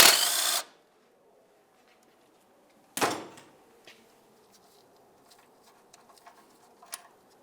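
A 10mm mounting bolt holding the front brake flex hose is removed from a 1998-2002 Lincoln Navigator, giving a loud burst of tool noise at the start and another about three seconds later, followed by faint clicks and handling sounds.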